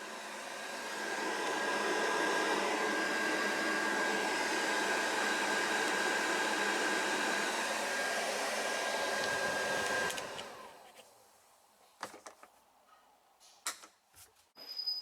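Loud, steady rush of air blows from the defrost vents of an Ice Crusher cab heater on a Ranger XP1000 for about ten seconds, then cuts off, leaving a few faint clicks and knocks.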